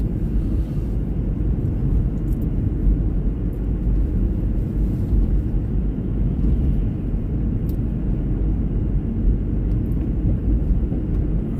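A car heater blows steadily inside a vehicle, a constant low rumbling whoosh that stays even and loud from start to finish with nothing else over it.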